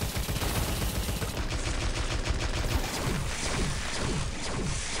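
Rapid Tesla gun fire in the game Tesla vs Lovecraft, a dense, continuous crackling barrage of shots that stays loud and steady throughout, with busy action noise layered beneath.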